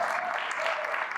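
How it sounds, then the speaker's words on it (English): Audience applause at an Arkansas Municipal League gathering, a brief steady patter of many hands clapping at moderate distance. "That deserves a much louder applause than that."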